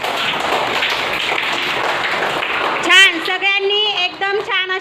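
Young second-grade children clap together in a classroom after a quiz answer, a burst of dense clapping that gives way to voices chanting.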